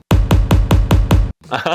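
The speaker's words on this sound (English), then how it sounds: "So first of all, we switch the kick to super impactful kick." Six punchy kick drum hits land in a quick, even rhythm, loud and close, followed by a brief burst of a different sound.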